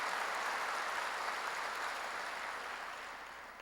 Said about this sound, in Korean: 박수 세게 쳐요.